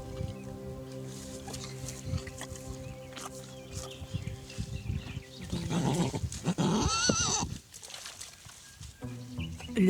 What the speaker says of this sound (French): Le petit pousse ses premiers hennissements et dans les prés environnants, les autres chevaux lui répondent.